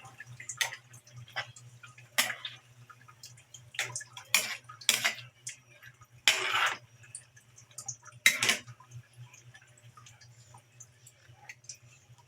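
Chicken liver stirred in a pot, intermittent clinks and scrapes of a utensil against metal, with a low steady hum underneath and quiet gaps between strokes.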